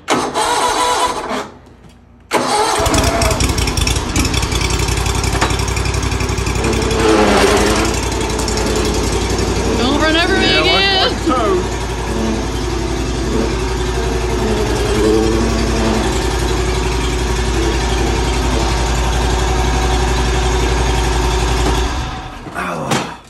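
An engine cranks briefly, catches and then runs steadily at close range, a loud continuous rumble with a rough, rattling texture and some higher squeals partway through, cutting off near the end.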